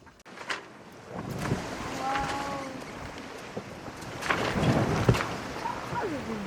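A sailboat running under genoa alone at about five knots crosses the open ocean at night, with water rushing and sloshing against the hull, gusty wind, and a few creaks and knocks aboard.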